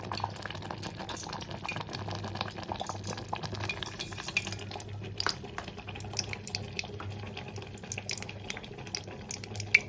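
Mustard seeds splutter in a hot pan of oil with a little ghee, giving a steady close sizzle with dense crackling pops throughout and no voices.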